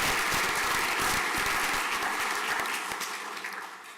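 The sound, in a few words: audience applause at a school prizegiving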